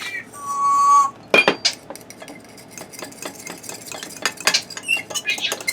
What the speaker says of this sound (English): You just want to blend everything together well.